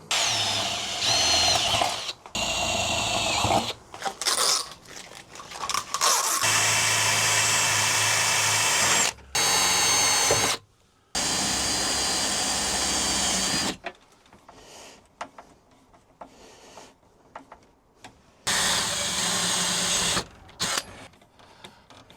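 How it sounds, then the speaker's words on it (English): A power drill drilling drain holes runs in repeated bursts, whirring loudly for several seconds at a time with short pauses between, close by and with no talking. "now I can drill some holes through there for the drain"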